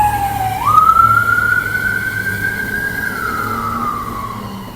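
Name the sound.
ambulance siren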